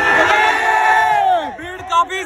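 Large crowd at a busy public gathering, a loud dense roar of many voices cheering and shouting close by, with one rising shout near the end.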